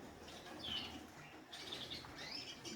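Caged birds, including molting hens, shuffle and flutter in an indoor bird room, with soft wing flaps and a few high thin chirps, faint and fairly close.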